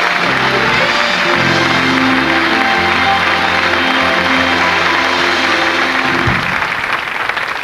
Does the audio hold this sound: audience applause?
yes